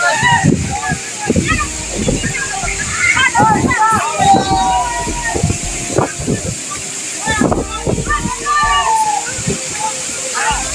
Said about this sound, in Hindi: माँ कसम बहुत ठंडा पानी है भाई, मजा आ गया नहा के गए, ठंडा पानी है और नहाने जा रहा हूँ।